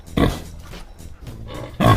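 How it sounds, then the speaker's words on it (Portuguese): A pig gives a few short, rough grunts, close and fairly loud, separated by quieter snuffling. "Porco."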